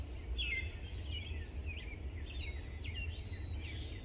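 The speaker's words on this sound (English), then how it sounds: "Listen to all these birds." Many small birds sing and chirp in an April garden in North Carolina, with bright, scattered calls repeating over a steady low background rumble, moderately distant and fairly faint.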